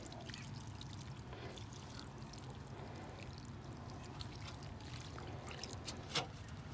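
Water poured onto a wilting cucumber plant in a garden: a steady, broad splashing rush that runs throughout, with no voices.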